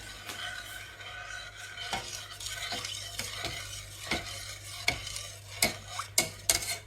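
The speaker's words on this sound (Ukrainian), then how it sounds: "Я додав все молоко, постійно продовжую підмішувати." A spoon stirs milk into a bolognese lasagna sauce with porcini mushrooms, with a steady scraping swirl and a soft sizzle. Clicks of the spoon against the pot sharpen and grow louder near the end.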